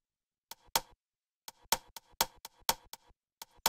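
Short, crisp percussive clicks and snaps layered on a slap house bass, in a syncopated pattern, dry and close, with gaps between the bursts.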